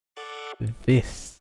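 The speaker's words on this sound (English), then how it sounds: "It's just a subwave, nothing complex." A simple synthesizer sub wave from a song remake: a short, clean, steady tone of under half a second, followed at once by a brief spoken word.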